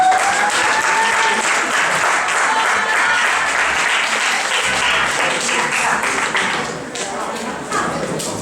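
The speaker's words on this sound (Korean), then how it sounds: "박수 한번 맞춰주세요." Sustained audience applause at a debate camp exhibition match, steady dense clapping filling the whole stretch at close range, easing slightly near the end.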